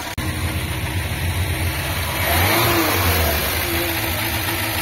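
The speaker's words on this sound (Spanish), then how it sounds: "Pero bueno, aún así el motor va fino" A Renault 4L's engine runs steadily up close, a low mid-pitched drone that swells a little louder partway through before settling, with no talking over it.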